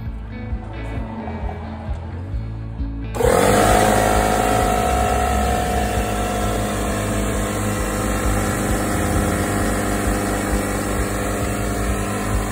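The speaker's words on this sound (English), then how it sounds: "An air compressor." An air compressor powered through an inverter from a 48-volt golf cart battery kicks on abruptly after a quieter stretch, then runs with a loud, steady motor drone and hum.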